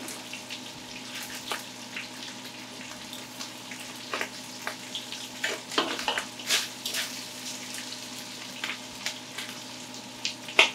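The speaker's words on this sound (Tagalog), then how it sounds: "Diyan na natin igigisa ngayon yung bagoong." Shrimp paste (bagoong) sautéing in rendered pork fat in a pan, a soft crackling sizzle with scattered pops and scraping stirs, close but fairly quiet, no talking.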